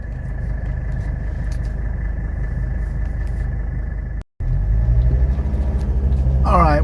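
A 1985 Mercedes 300D diesel rumbles steadily from inside the cabin, then after a brief cut the engine note rises as the car pulls away.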